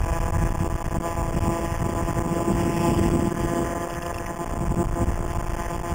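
A CAG 49cc pocket bike scooter engine revs hard at full throttle on a top-speed run, giving a steady, loud, buzzing drone mixed with heavy wind rush for the whole stretch, with no voices.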